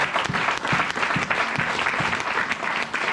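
A church congregation applauding during a worship service, dense steady clapping from many hands filling the room, fairly close, with faint voices mixed in.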